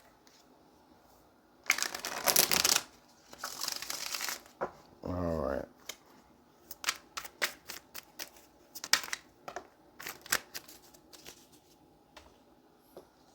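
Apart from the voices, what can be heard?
shuffling tarot cards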